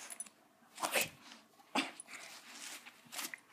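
A puppy caught chewing a hole gives a few faint, scattered yips and whimpers, spaced over a few seconds at a quiet level with some distance.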